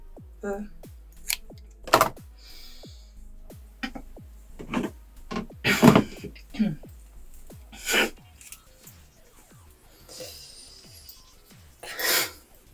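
Repeated crisp snipping and crunching of scissors through hair during a plunging bob cut, close and irregular, with soft rustling between cuts.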